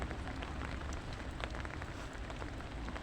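Rain falls steadily at Monkey Hill in Hong Kong, a dense, close patter of drops on surfaces with no voices.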